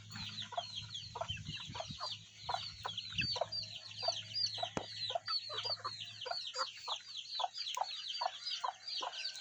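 Chickens cluck repeatedly in short, busy bursts throughout, several birds close by over a low steady hum.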